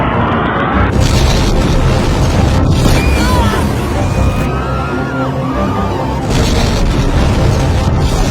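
A nuclear weapon detonation gives a loud, deep booming rumble, swelling in several heavy surges with brief crackling bursts between them and a sustained roar throughout.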